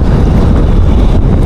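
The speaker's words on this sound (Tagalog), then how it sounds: "Malakas yung hangin." Strong wind while fishing buffets the microphone with a loud, constant low roar and rumble throughout.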